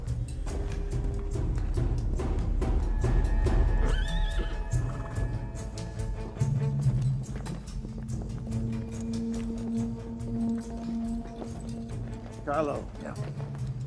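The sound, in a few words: horses pulling a carriage, neighing and hooves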